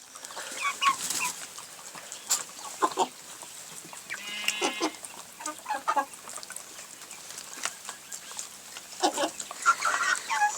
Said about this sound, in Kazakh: Бұлар тауық сияқты таласып жемейді да, асықпай жей деген.